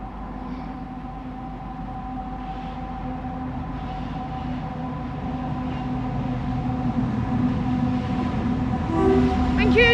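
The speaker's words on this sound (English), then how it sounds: "Train's approaching." A Class 70 diesel locomotive approaches a level crossing on Lincoln High Street, its steady rumble and droning tones building louder over ten seconds, with a brief horn-like squeal near the end and people talking nearby.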